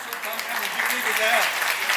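A concert audience applauds as hosts come to the stage, dense steady clapping from a crowd with a voice talking over it.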